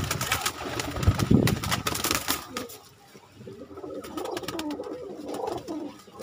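Desi high-flying pigeons, a newly bought lot of about thirty birds, coo softly in a low murmuring rhythm among rustling and background noise, with a louder burst near the start.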